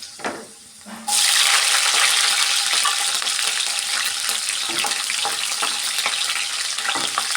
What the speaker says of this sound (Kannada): ಚೆನ್ನಾಗಿ ಸ್ವಲ್ಪ ಈ ಥರ ಫ್ರೈ ಮಾಡಿಕೊಳ್ಳೋಣ